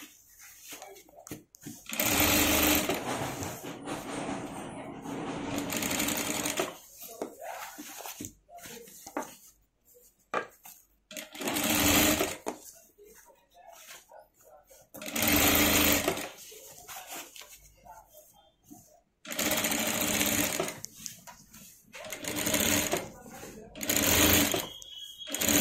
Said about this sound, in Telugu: ఇలా లైనింగ్ పార్ట్ తీసుకొని దీనిపై స్టిచ్ చేసుకుంటారండి.